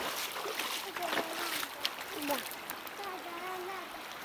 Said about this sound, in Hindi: पहाड़ों के बीच ना ये पानी बह रहा है